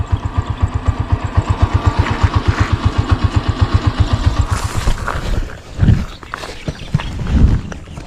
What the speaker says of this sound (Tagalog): Hindi ko na pinatay yung makina kasi dumadaan lang tayo.